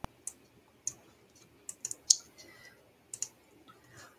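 A computer mouse clicks while boxes are dragged and dropped in Google Slides. The clicks are sharp, close and light, scattered irregularly over a nearly silent background.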